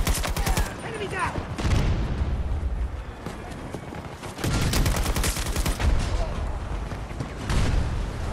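Light machine gun fire in Battlefield 2042 comes in long rapid bursts with short gaps between them, loud and close, while people talk over the shooting.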